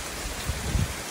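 Summer rain falling on a garden, a steady hiss of rainfall with a few soft low thumps of drops, close and continuous, no talking.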